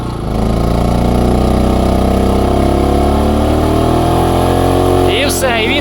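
BLITZ generator engine shifting out of eco mode as a 1.5 kW electric kettle is switched on, a loud steady engine drone whose pitch gradually rises, close by, with a brief high squeak near the end.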